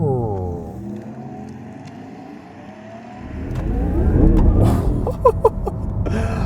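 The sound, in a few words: Porsche Taycan Turbo GT sound while braking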